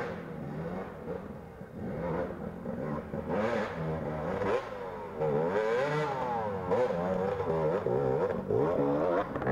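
Two-stroke dirt bike racing at a GNCC round at Snowshoe, its engine revving up and down in wavering, rising and falling pitches at moderate distance, with some clatter along the way.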